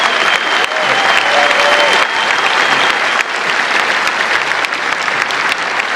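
Loud, sustained applause from a lecture-hall audience at a live discussion event, dense and continuous for several seconds with no break.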